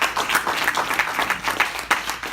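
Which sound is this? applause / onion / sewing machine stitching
applause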